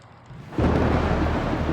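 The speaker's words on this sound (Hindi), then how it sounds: "बारिश, बिजली का कड़कना और ओले भी गिरे" During a heavy rainstorm with hail, thunder breaks in suddenly and loud after a quiet moment, then rolls on as a broad, sustained rumble.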